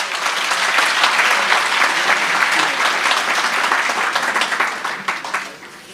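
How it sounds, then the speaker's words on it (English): An audience at a Free State primary school summit gives dense, sustained applause, many hands clapping together at full strength for several seconds before it begins to fade at the end. "A round of applause for that."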